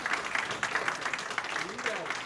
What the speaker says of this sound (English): You can actually clap for yourselves if you want.